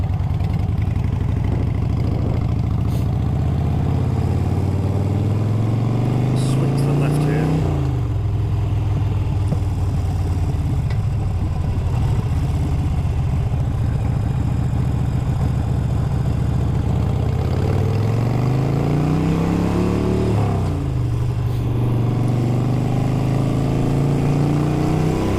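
Steady engine drone from a Harley-Davidson Iron 883 motorcycle converted to 1200, ridden along country roads, loud and continuous with two rising and falling swells as the revs change, wind rushing throughout.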